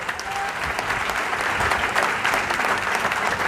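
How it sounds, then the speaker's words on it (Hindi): Loud, sustained applause from a crowd at a political rally in Delhi, honouring a comrade who was jailed for the workers' cause; dense clapping fills the moment without a break. "एक बार जोरदार तालियां बजाओ उसके सम्मान में।"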